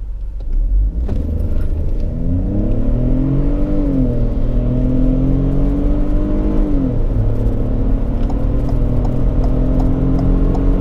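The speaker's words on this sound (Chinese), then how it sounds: "下面先测下百公里加速。" A Ford Bronco with a 1.5-litre turbocharged three-cylinder engine and an eight-speed automatic accelerates hard from a standstill. The loud engine note rises and drops as gears change, heard steadily from inside the car.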